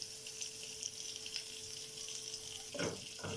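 Garlic fries in butter in a pan with a soft, steady sizzle, faint and close, and a brief stirring scrape near the end.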